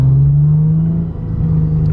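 Lexus IS350 with an FBO exhaust pulling hard in first gear, a steady loud low exhaust drone rising in pitch with a brief dip mid-pull, fairly mellow rather than raspy.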